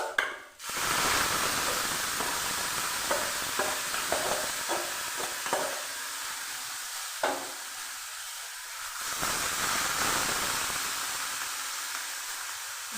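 Boiled gourd greens drop into hot oil already frying with onion and black cumin, setting off a sudden loud sizzle that settles into a steady, close hiss with faint stirring clatter and no voices.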